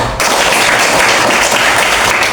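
A classroom of students breaks into loud, dense applause, a continuous close wash of clapping hands lasting a couple of seconds.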